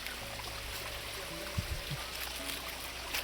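Soft, steady rush of flowing river water with light trickling and a few low gurgles, fairly quiet and continuous.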